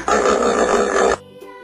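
A hippopotamus lets out a single deep, rumbling grunt lasting just over a second, loud and close, then trailing into a faint tonal tail.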